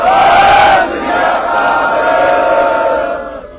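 A large crowd at a Congress party protest rally in Patiala roars the Sikh jaikara response in one loud, sustained massed shout lasting a few seconds, then fades.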